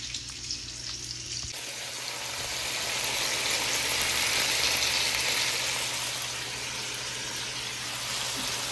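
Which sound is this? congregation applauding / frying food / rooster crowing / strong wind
frying food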